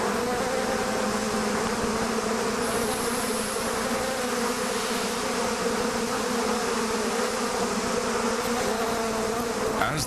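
A swarm of aggressive African bees attacking makes a dense, loud, continuous buzz that holds steady for the full ten seconds with no other sounds.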